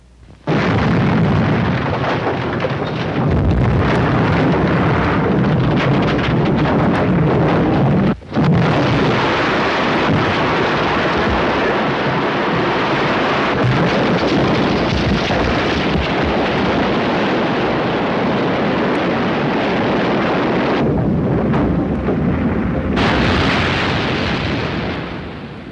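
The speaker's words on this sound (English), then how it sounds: "several charges are placed around the retaining walls of the sump wells. They should be all timed to explode together." Several demolition charges detonate together around the retaining walls of flooded mine sump wells, producing a loud, sustained roaring blast with rumbling debris that continues for the whole stretch, briefly dropping out once before resuming.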